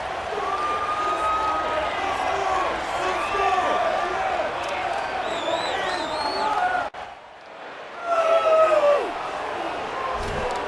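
A stadium crowd roars in the College Football 27 video game. Dense, loud cheering runs continuously with whistles and shouts. It cuts out briefly, then swells again, with voices talking over it.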